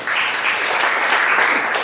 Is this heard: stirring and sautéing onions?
no